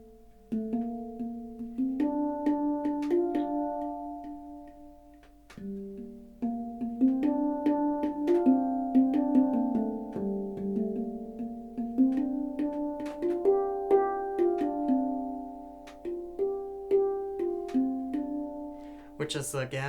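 A gentle Celtic-style title theme from a video game played on a resonant, bell-like metal instrument, notes ringing and overlapping in a flowing melody with no voices.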